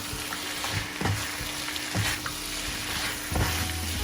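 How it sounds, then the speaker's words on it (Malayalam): Chicken pieces sizzle in a hot pan as they are stirred into a sauce, with a steady fry broken by a few sharp scraping knocks of the spoon against the pan. "ചിക്കൻ ഇട്ടതിന് ശേഷം ഒന്ന് കോട്ട് ചെയ്തെടുക്കാം"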